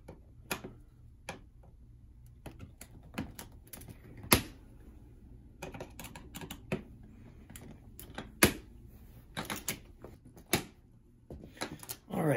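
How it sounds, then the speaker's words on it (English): A handy knife snips through zip ties on a big camera lens case, giving sharp isolated clicks and snaps at uneven intervals, close and fairly quiet, with soft handling noise between cuts. "We go ahead and we just start cutting into these guys."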